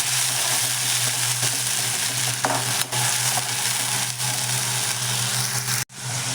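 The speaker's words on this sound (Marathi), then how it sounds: "आता आपण ही डाळ घालून घेऊयात आणि ते व्यवस्थित आपण परतून घ्यायचं आहे" Lentils frying in a pan with garlic give off a steady close sizzle, with a low constant hum underneath and a few small stirring knocks, and no one speaking.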